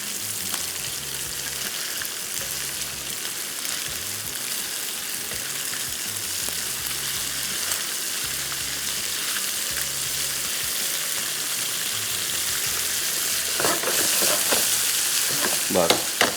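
Pieces of fish sizzle steadily in a hot pan after being turned, a dense continuous frying hiss with a few louder crackles and pops near the end, no talking.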